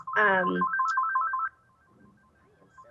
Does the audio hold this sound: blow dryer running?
no